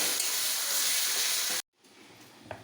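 Masala spice mix frying in a pan, giving a loud steady sizzle that cuts off abruptly, leaving only quiet kitchen sounds and a faint clink.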